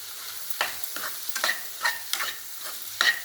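Radish and lentil usili frying in a pan while being stirred, a rhythmic series of spatula scrapes about every half second over a soft continuous sizzle, close and clear, without talking.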